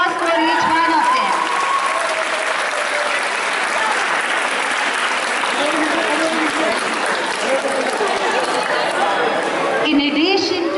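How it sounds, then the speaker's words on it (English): A large school audience at a farewell ceremony applauds steadily for several seconds, dense and sustained, with chatter mixed into the clapping. "A big round of applause for each one of them."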